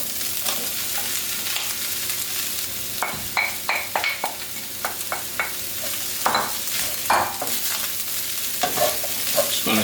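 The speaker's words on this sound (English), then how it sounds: "you can see all that fat on the bottom there. That's sort of sizzling that you're seeing, that's all fat" Shredded cabbage is stirred through sizzling fat in a pan: a constant hiss with a cluster of sharp spoon scrapes and clatters near the middle and end, no voices.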